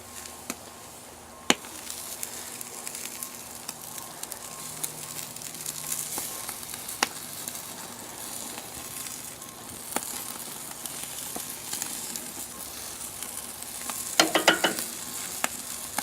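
Korean-style marinated short ribs sizzle on a grill with a constant fizzing hiss, scattered sharp crackles and pops, and a brief burst of louder sputtering near the end.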